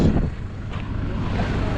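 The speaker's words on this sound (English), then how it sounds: "Sorry, incredibly windy." Low, rumbling wind buffets the microphone steadily in Dahab, Egypt, a thick roar filling the short stretch with no voices.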